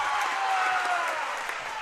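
Crowd noise at a high school basketball game against St. John's-Tipton, a steady dense roar and cheering throughout, with no distinct voices standing out.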